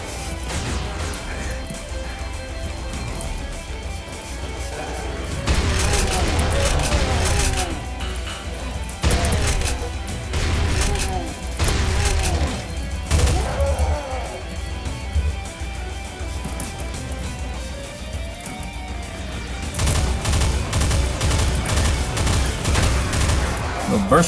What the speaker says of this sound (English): Little burst rifle there, huh?